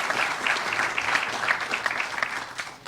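A crowd at the opening of an electric vehicle battery factory in Kentucky gives a short, brisk round of applause, many hands clapping together with small rising and falling surges before it trails off.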